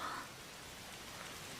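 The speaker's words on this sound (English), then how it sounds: "I love hearing the rain harder and harder in her ears." Rain falling in a scene from the anime Sound! Euphonium, a soft, steady wash of drops heard faint and distant, with a brief brighter sound at the very start before the even hiss settles in.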